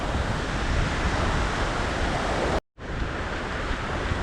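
Steady broadband roar of surf breaking along a cold-water beach where sand fleas feed, loud and continuous with a brief dropout near the end, no voices.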